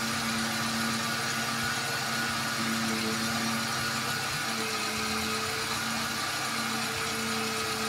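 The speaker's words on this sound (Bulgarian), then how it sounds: "доста равномерно работи този двигател" A supercharged Mercedes W203 Kompressor engine with 5G-Tronic automatic gearbox idles steadily and evenly, a constant low rumble with a faint mechanical whine, no voices.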